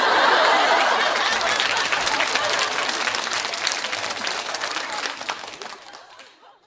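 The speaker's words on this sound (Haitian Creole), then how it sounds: "Battez un gros bravo pour président." A crowd claps loudly at a baby shower, dense applause that starts strong and slowly thins out and fades, with a few chuckles mixed in.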